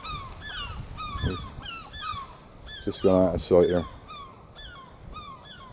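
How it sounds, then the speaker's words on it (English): Gulls call repeatedly from a distance on a coastline with rocks below, their short yelping cries continuing throughout while someone speaks briefly over them. "Gulls are having a shout about it."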